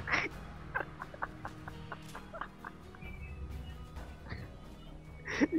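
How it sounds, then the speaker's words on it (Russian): Chickens cluck in an online role-playing game, several short bird calls repeating in a loose series over steady game background sound, with a louder burst of clucking near the end. "Там курицы ходят."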